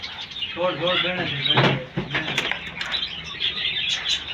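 A pet parrot flutters its wings as it flies off inside a walled courtyard, a busy burst of flapping with a few squeaks, while people shout and talk close by.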